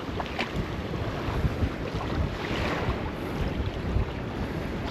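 Strong wind buffets the microphone on an estuary shore during fishing, a constant loud roaring rumble with gusty swells and a wash of waves beneath, no voices.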